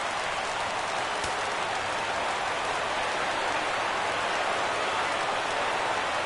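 A stadium crowd in a PS4 baseball game roars in a dense, continuous wall of cheering and applause that holds steady throughout, loud and with no distinct voices.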